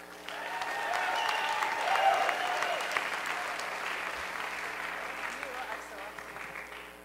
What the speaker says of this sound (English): may I have a big round of applause